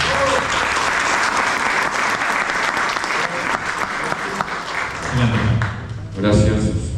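Warm audience applause welcoming a priest, steady and full for several seconds, then dying away as a voice begins speaking at the end.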